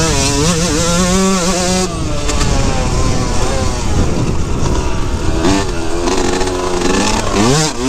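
A Yamaha YZ 125 two-stroke dirt bike rips around a Colorado motocross track, its loud, close engine revving hard and wailing up and down through the gears without pause, with a brief upshift partway through.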